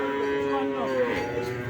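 Cattle lowing at a village livestock market, a drawn-out moo with rising and falling harmonic bends lasting the whole moment, close and fairly loud over faint background murmur.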